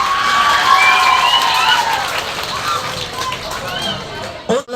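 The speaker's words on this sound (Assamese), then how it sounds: "এটা হাত চাপৰিৰে তেওঁলোকক উৎসাহিত কৰিবৰ কাৰণে মই" A farewell audience at a school assembly claps together in sustained, dense applause with crowd noise, loud and steady throughout, thinning out briefly near the very end.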